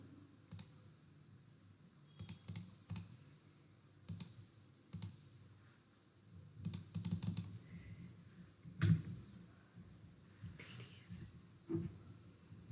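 Computer keyboard keys clack while shortcut keys are pressed for spreadsheet work in MS Excel, quiet clusters of clicks and taps scattered irregularly with a soft whisper-like murmur underneath.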